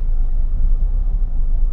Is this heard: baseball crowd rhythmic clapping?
no